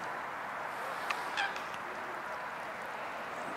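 A few distant Canada goose honks rise briefly over a steady outdoor wash of noise in snow, a short cluster of calls then fading back to ambience.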